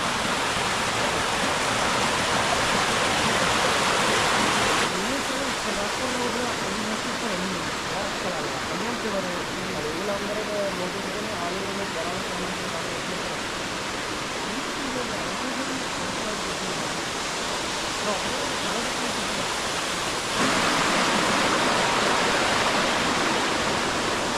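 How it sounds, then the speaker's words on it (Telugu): A steady, broadband roar of falling water at Minumuluru Waterfalls near Paderu fills the whole stretch, with faint voices murmuring beneath it in the middle. "మిడిమలూరు వాటర్ ఫాల్స్ దగ్గరికి అయితే వచ్చేసాం"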